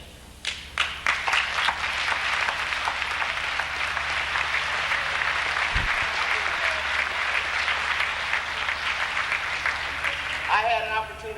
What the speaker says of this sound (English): I think we once again need to give you an ovation